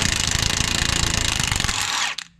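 Pneumatic impact wrench rattling off a 16 mm nut on a Peugeot 306 front wheel hub, a loud continuous hammering burst of about two seconds that stops abruptly, close up.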